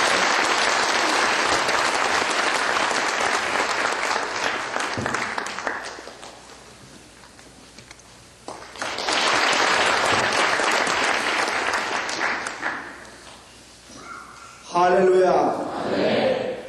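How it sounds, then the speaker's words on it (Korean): Congregation clapping at a church prayer meeting as a pastor comes forward, two broad swells of applause with a lull between, then a brief spoken voice near the end. "우리 박수 한번 쳐주십시오"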